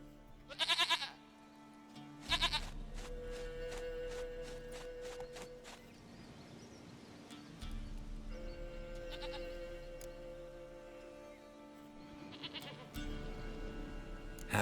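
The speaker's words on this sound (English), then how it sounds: "Goat of mine, dearest, sweetest goat." Goats bleat in a farmyard scene from The Witcher 3, loud harmonic cries repeating at intervals over a steady low ambient drone, with the bleats coming near and clear.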